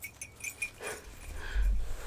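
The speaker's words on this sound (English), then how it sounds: "This is a skittish puppy." A skittish puppy whimpers outdoors: a few faint, brief high whines under low rumbling background noise.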